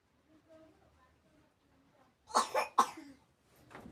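A pet dog gives a short burst of two or three harsh, close coughs after a quiet stretch, followed by a fainter rasp.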